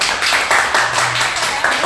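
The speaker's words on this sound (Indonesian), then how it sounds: "terima kasih untuk tepuk tangannya buat Sonya" Audience clapping at the close of a live talk session about life as crew on a cruise ship, a brief steady patter of hands at moderate loudness with a faint voice underneath.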